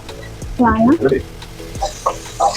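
Mushroom fried rice sizzling and being stirred in a pan, a steady soft frying hiss with scraping stirs, while a person talks over it.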